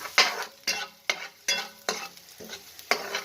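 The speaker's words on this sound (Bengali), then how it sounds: "পেঁয়াজটা ভাজা ভালো হবে খুব যে ছিবড়া ভাজা করে দিতে হবে তা না একটু ভাজতে হবে" Sliced onions frying in hot oil with dried red chilli and spices for a papaya-potato moong dal, stirred in about seven regular, sharp sizzling scrapes close by, with a quieter hiss between strokes.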